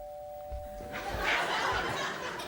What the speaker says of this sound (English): I'll do a sort of doorbell noise, using a bow, in fact